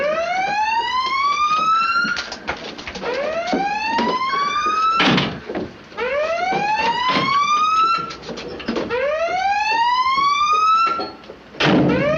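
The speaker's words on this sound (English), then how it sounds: "Sound collision alarm." A submarine collision alarm sounds in a 1958 war film. Repeated rising electronic whoops sweep upward in quick bursts, loud and insistent, with clanks and mechanical thuds between them and no speech.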